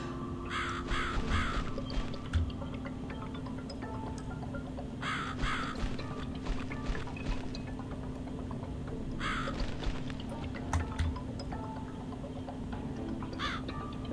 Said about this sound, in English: bird is a menace.